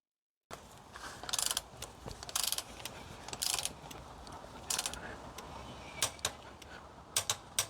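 A torque wrench tightens an engine mount bolt on a 2004–2009 Mazda 3, giving repeated faint ratcheting clicks in uneven bursts over quiet workshop background, with no talk.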